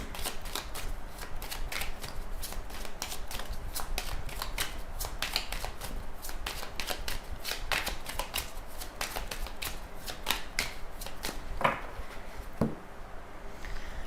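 A deck of tarot cards is shuffled and cut with continuous soft riffling and flicking at close range, then ends in a few crisp taps as the deck is settled. No one speaks.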